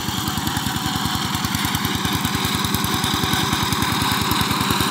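A 12HP diesel power tiller engine runs in a field, a loud, close, steady single-cylinder chug with rapid even pulses throughout and no voices.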